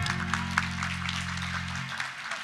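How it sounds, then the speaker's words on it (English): Audience clapping for sponsors at a business awards event, steady applause over a sustained low hum that cuts out near the end, moderately loud throughout. "Go ahead, let's clap."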